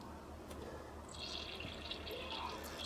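A Ninja Luxe Cafe water filter dropped into a glass of water, a faint plop followed by soft bubbling and fizzing as the filter fills, quiet and close.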